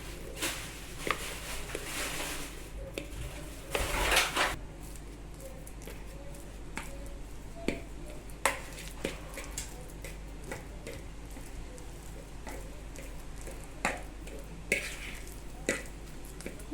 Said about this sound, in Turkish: Önce bunu çatalla ezeceğim.